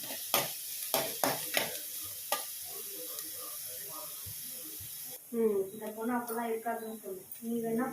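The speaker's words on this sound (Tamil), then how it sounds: "நல்லா அது வந்து பொன்னிறமாக வதக்கணும்" Ingredients for goat brain fry sautéed in a pan until golden, with a few close stirring clanks and a soft sizzle in the first half, then someone speaks over the quieter frying.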